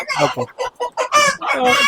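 Chickens at a poultry farm clucking and squawking in a busy, continuous chorus, close and fairly loud, with a rooster-like crow rising near the end.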